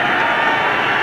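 A stadium crowd at a 1988 Australian rules football match between Collingwood and Geelong roars in a steady, dense wash of cheering that fills the whole moment.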